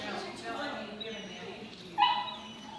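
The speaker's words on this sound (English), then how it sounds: "this is a big dog" A big dog gives soft whimpers and a sharp yip near the end during a training session, heard close and fairly faint with people talking around it.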